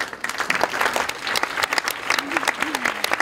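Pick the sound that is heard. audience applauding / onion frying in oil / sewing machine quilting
audience applauding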